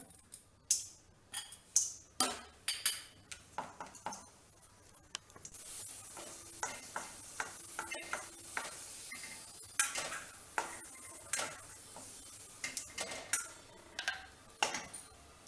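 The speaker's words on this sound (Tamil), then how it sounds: "நெய் ரொம்ப சூடாகங்காட்டியும் நீங்கள் திராட்சையை வந்து வறுத்து எடுத்துக்கணும்." Raisins roasting in hot ghee in a pan, with a soft sizzle under repeated sharp clicks and taps as a spoon stirs against the metal, up close.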